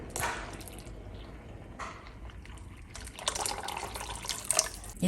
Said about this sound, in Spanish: Ya que veamos que está hirviendo, le vamos a agregar agua.